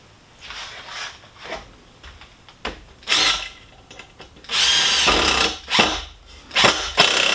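A 12-volt impact driver drives screws into wood in several short, loud bursts of whirring and hammering, with quiet pauses between runs and one longer drive near the middle.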